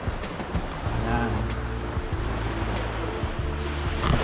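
Sea waves wash in steady surf at Cabalitian Island in Sual, Pangasinan. A low engine drone and wind buffeting the microphone run underneath, with rhythmic ticking throughout.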